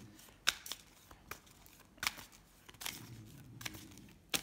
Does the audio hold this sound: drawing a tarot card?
yes